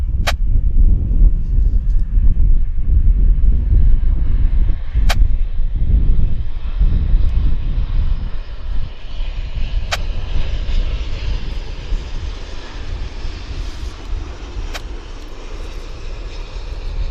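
A passenger jet arriving from Korea lands at Vancouver Airport at sunrise with a loud, steady engine roar close by that slowly fades, marked by a few sharp clicks.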